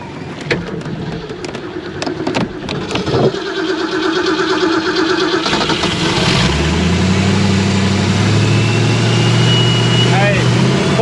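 A boat engine turns over and settles into a steady low rumbling idle, with people talking nearby.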